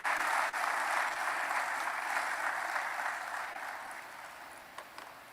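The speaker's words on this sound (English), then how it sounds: "Another round of applause for the President." At the opening ceremony of an annual GBA conference in Bolga, a crowd applauds the President. The clapping is fairly soft and distant, dense and steady at first, then tapering off over a few seconds.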